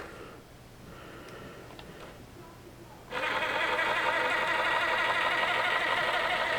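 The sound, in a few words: RC crawler motor running with Injora MB100 ESC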